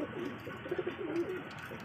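A pigeon coos in a soft, low series of rolling calls, fairly close and unaccompanied by talk, set against a faint background hiss.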